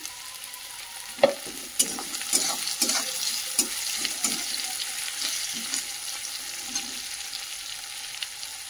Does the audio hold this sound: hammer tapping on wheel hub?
no